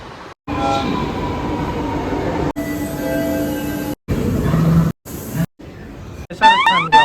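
Loud rumble and rolling clatter of a metro train passing close at Meenambakkam metro station, broken by a few brief gaps, with a rising squeal near the end.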